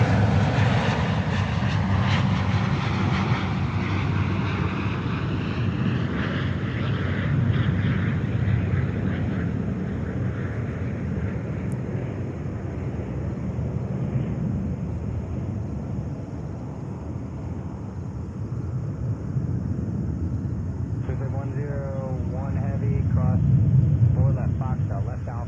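Airbus A350-900 airliner arriving from Delhi at JFK Airport, a loud continuous engine roar with low rumble, rising again near the end, while people talk over it.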